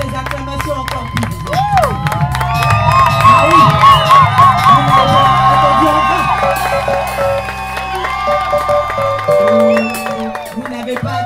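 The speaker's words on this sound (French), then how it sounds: "Ah oui, je veux des acclamations encore plus." Wedding guests cheer, whoop and clap right after a couple is pronounced husband and wife, loud crowd acclaim with shouts over music, and someone talks briefly over it.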